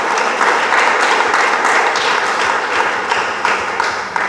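A church congregation claps and applauds for the Lord during a pastor's sermon, a loud, continuous wash of hands with a few sharper claps rising out of it.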